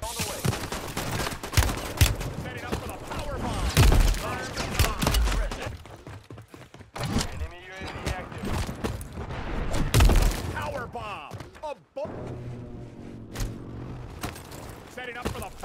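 Power bomb killstreak explosions in Call of Duty MWIII, a dense run of loud booms, blasts and rapid gunfire bursts crowding the whole span, with game voices calling out over the chaos.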